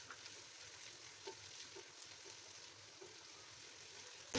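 Chopped onions frying in a pan for a Bengali potato curry, a soft, steady sizzle with faint stirring taps, quiet and even throughout.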